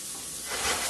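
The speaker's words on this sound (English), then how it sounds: "we're just going to let those onions cook for a minute or two" Onions frying in a pan while brunch is cooked, a steady close hiss that swells slightly toward the end, with no voices.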